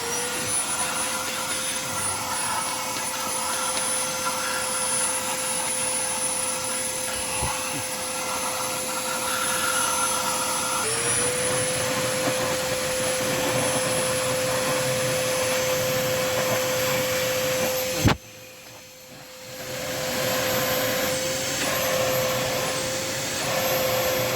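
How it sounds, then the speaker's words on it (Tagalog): A vacuum cleaner runs during an oil change on a Ford Ranger 2.2 4x4, with a steady, loud whine and roar, broken by one brief dip in the noise before it resumes. "ito muna ang gamitin natin, vacuum"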